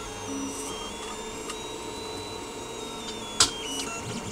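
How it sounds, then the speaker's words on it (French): A Tevo Tornado 3D printer runs with a steady motor whine and shifting stepper tones, a cable rubbing against its bed, and one brief sharp click partway through. "J'ai un câble qui frotte sur mon bed."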